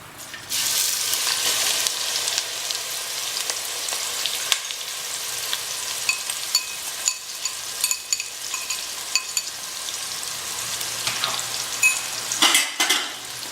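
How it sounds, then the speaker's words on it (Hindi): Onions frying with garam masala in a pan for Mewari laal maas mutton curry, a loud, steady close-up sizzle hissing throughout, with occasional scrapes and clicks of stirring. "गरम मसाले जले नहीं, इसलिए साथ में हम ये प्याज भी डाल देते हैं।"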